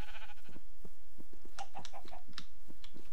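Sheep bleating in the Minecraft video game, several short bleats in quick succession, close and fairly loud, with no talk over them.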